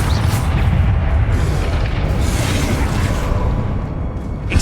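A Confringo blasting spell detonates in Hogwarts Legacy with a loud, close, booming explosion whose heavy low rumble fills the moment and fades slightly toward the end.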